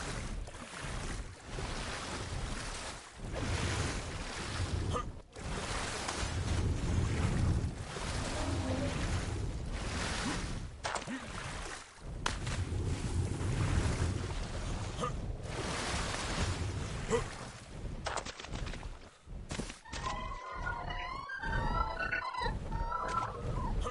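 Water and waves in the video game Ark: Survival Evolved, a broad continuous splashing and washing surf with surges and brief drops, moderately loud, with faint creature calls near the end.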